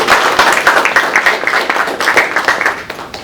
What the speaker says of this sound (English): let's give them a big round of applause, everyone